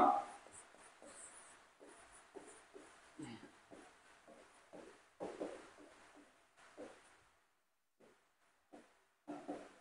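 Handwriting with a pen or marker on a board during a nursing admission class, a series of faint scratchy strokes in short bursts with pauses, fairly close and without voices.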